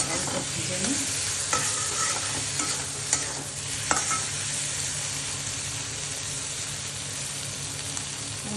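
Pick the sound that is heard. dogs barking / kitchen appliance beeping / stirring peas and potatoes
stirring peas and potatoes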